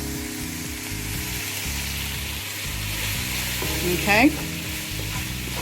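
Chicken stir fry with a Maggi cube is stirred in a sizzling pan. A steady, loud sizzle runs throughout, with a brief scrape near the end and a single short spoken word.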